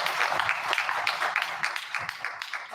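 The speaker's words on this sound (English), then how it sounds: "let's give a big round of applause for our panelists" Audience applause for panelists at a political forum on a Missouri amendment, brisk clapping from a modest crowd, close and even, fading slightly near the end.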